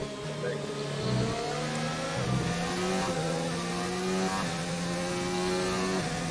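An F1 race car in a Formula 1 racing game revs and accelerates, its high engine note climbing through gears in repeated rising sweeps, steady and close, with brief talk over it.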